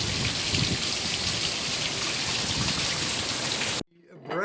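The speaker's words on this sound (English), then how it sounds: "Look at that rain." Heavy rain of Hurricane Dorian in Charleston, South Carolina pours as a dense, steady roar for nearly four seconds, then cuts off abruptly into near quiet with faint voices.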